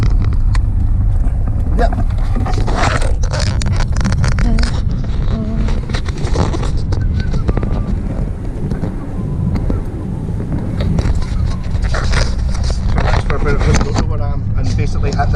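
A small car driving in fourth gear through town traffic lights, giving a steady engine and road rumble with wind noise, continuous and fairly close inside the cabin, while a person speaks briefly.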